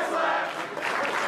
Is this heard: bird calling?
no